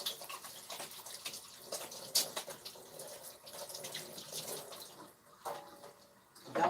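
Tap water running into a sink during handwashing, a soft, steady splashing stream with small clatters and a faint drip, fairly close and without talk.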